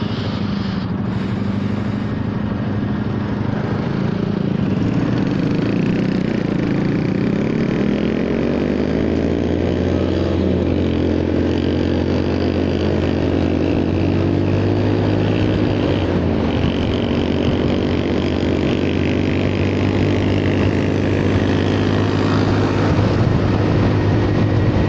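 A Honda Forza 300 scooter rides along with its soft, muffled exhaust droning steadily and closely, with engine tone rising and falling gently and wind noise throughout.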